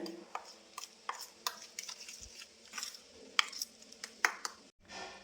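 Kansar, a sweet of wheat flour and ghee, being stirred in a pan, with soft scraping and clinking of a spoon against the pan in irregular bursts, fairly quiet and without talk.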